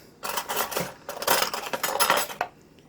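Spoons and dishes clatter and clink in a kitchen in quick, close, bright bursts with a short pause midway, and no voices.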